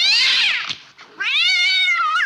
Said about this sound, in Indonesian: maaf ya kucing gue bertingkah.